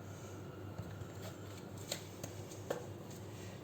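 Tarot cards from a Romance Angels deck are shuffled by hand, soft papery riffles with a few faint snaps, close but quiet against a steady background hum.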